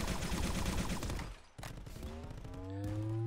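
The Needler weapon in the VR game Contractors fires in dense, rapid bursts, followed after a brief pause by a rising whine and more shots, faint overall.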